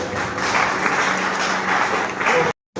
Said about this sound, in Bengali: আমরা সবাই তার জন্য একটু জোরে হাত তালি দিই